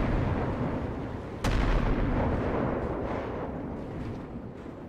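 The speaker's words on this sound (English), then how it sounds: "The random explosions are hilarious." A sudden explosion booms in GTA V on a FiveM roleplay server, a single sharp blast that hits loudly and then fades into a rumbling roar over several seconds.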